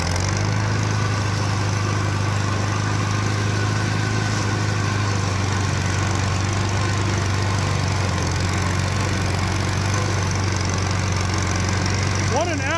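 An old tractor, bought locked-up for $500, with its engine running hard in first gear, a loud steady low drone with a heavy hum held throughout and a faint voice near the end.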